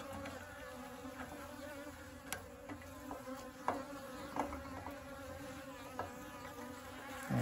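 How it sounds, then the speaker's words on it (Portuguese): Agitated honey bees buzz around an apiary hive, a continuous droning swarm close by with scattered sharper clicks and taps, and no voices. "As abelhas estão muito bravas"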